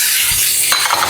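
Garlic, green pepper and onions sautéing in a pan, a brief burst of loud sizzling with a quick stirring scrape.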